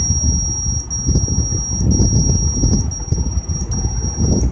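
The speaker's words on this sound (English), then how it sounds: "the buzzer frequency, beep frequency, have gradually increased" Buzzer on an Arduino UNO ultrasonic proximity sensor beeping in a steady high-pitched pattern, close and loud over a constant electronic whine and low background rumble.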